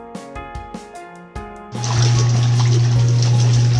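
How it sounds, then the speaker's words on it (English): Tap water runs into a portable washing machine. After a few soft knocks and tones, a loud, steady gush starts abruptly and continues evenly to the end, close and unmasked. "So I let my water run up until this point"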